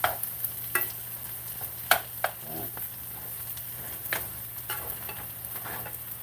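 Food frying and browning in a pan, a steady sizzle with occasional sharp pops and stirring scrapes, close and fairly loud, with no talk.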